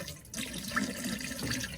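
RV antifreeze pours into a camper toilet bowl in a steady, close splashing stream of liquid, unbroken for the short stretch and heard without any talk.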